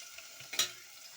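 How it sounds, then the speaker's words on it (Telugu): Ginger, garlic and cumin dropped into a hot pan, giving a brief bright sizzling hiss that swells and fades within a second against a quiet kitchen background. "ఆ తర్వాత అల్లం, ఎల్లిపాయ, జీలకర్ర వేసేసుకుంటున్నాను."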